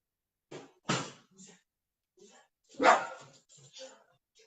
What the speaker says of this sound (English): Take that dog downstairs.